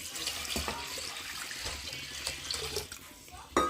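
Water poured into a pot of sambar mixture with salt and chilli powder, a close splashing flow that rises and falls over a few seconds.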